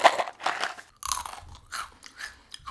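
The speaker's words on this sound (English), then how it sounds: "It's so loud when I crunch on it that all my inner deeper thoughts are just completely muted out." Crispy kalbi-flavoured snack from a Japanese convenience store crunches loudly and close between the teeth, a run of sharp, crackly bites and chews in quick succession with no talk.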